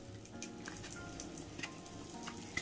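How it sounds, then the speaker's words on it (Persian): Steady, close sizzling of halloumi cheese frying in a pan, a dense crackle with scattered small pops throughout. "هالومیامون داره اینجا سرخ میشه"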